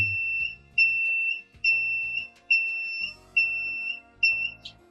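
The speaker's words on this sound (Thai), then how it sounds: "จะเป็นเสียงสัญญาณเตือนแบบนี้นั่นเองนะครับ" Two-tone electronic alarm beeping from an XH50 220VAC tower light in repeated long pulses, about six in a row, steady and loud, with a low rumbling hum between beeps.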